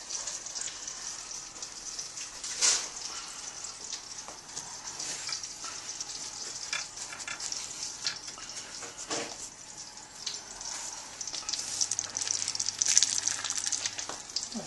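Breaded pork sizzles and fries steadily in a hot pan, a continuous close crackle with brief louder spits and pops, no talking.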